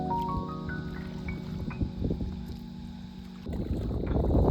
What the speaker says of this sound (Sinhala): කසුන්ගේ මේ පළවෙනි පාර බෝට් රයිඩ් කරන